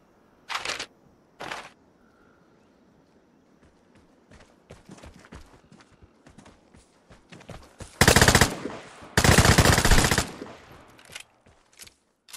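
Gunfire in the video game Vigor: two short single shots, scattered faint clicks and rattles, then two long loud bursts of automatic fire close by.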